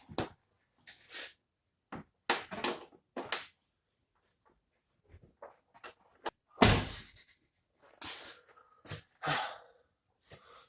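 A 1989 Volvo 760 Turbo car door with a newly fitted spring and poorly mounted door is worked repeatedly, giving sparse clicks and latch knocks with one heavy slam midway, close and otherwise quiet.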